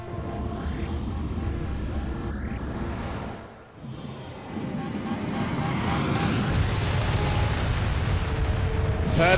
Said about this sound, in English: That explosion, though.